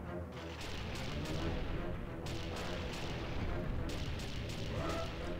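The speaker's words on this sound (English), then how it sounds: "I gotta, like, shoot at it as it's going back" Rapid shooting and booming blasts ring out during a boss fight against a praying mantis in a Rare Replay game, with dense, loud bursts continuing steadily throughout.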